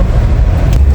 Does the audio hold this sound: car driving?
yes